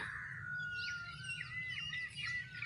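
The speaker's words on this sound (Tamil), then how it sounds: "காக்கா குருவிலாம் கத்துது பார்த்தீங்களா?" Birds twitter and chirp in a village at dawn, with crows and sparrows among them, a faint chorus of thin, overlapping calls over a soft, steady outdoor background.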